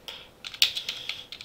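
Quick clicking keystrokes on a computer keyboard while editing map data, a short burst of light taps close to the microphone in a quiet room.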